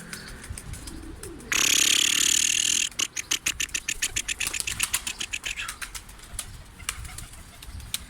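Pigeon wings clatter loudly in a sudden burst as young pigeons fly, then settle into a rapid rhythmic flapping that fades as the birds fly off.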